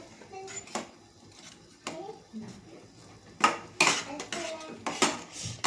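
A spoon is worked through a methi (fenugreek) masala mixture in a metal pot. Scattered clinks and scraping taps of utensil on metal come at irregular intervals, with a louder cluster of clatters toward the end, and faint voices in between.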